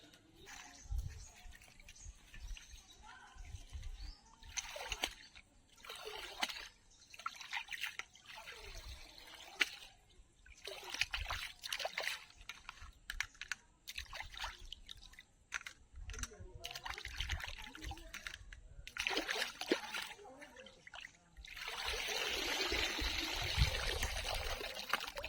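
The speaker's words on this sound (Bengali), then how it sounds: "দেখুন বন্ধুরা, ছাড়ানো হয়ে গেছে, এবার ধুতে যাব।" Running water trickles and splashes over cleaned crabs being washed in a village kitchen for a sour crab curry, intermittent pouring sounds with a heavier rush of water near the end, faint background voices.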